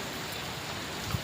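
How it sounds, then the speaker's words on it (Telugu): Heavy rain pouring down near a house with newly laid cement ground and trees, a steady dense hiss throughout with one brief low thump near the end. "ఫుల్ వర్షం పడుతుంది"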